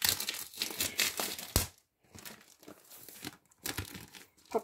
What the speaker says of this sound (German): ich werde es einfach jetzt mit euch auspacken